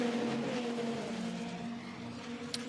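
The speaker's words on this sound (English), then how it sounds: "Another car that's making good progress, the red and white KTM." A red and white KTM GT2 race car runs at Monza, its engine droning steadily at mid distance with a sustained tonal whine and a brief sharp click near the end.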